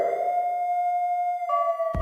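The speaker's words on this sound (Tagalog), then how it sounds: "There's fire alarm, or there's fire, maybe." An alarm or siren sounds as steady, loud electronic tones that hold one pitch, then shift to a second pitch partway through, ending with a brief knock.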